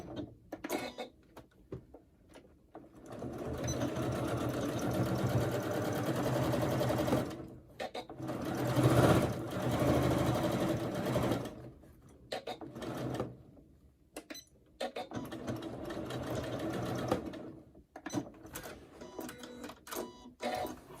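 A sewing machine stitches a crossbody bag pouch in several bursts of fast, steady whirring, separated by short pauses, close and moderately loud with no talking.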